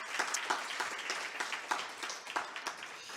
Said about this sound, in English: s'il vous plaît, une main d'applaudissement pour les employés qui nous ont joints